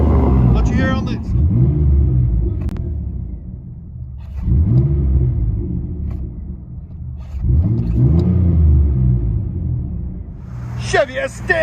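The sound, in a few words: 2003 Chevy S10 4.3L V6 straight pipe dual exhaust revving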